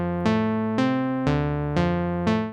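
Juno-style synth strings from Ableton Analog, using sawtooth and square oscillators through a low filter: five sustained chord stabs in a steady rhythm, each with a bright attack that mellows, close and even in volume.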